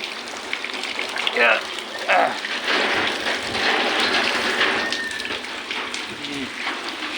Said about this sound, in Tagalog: Malamig, tag-ulan talaga. Maghapon na ulan, walang tigil.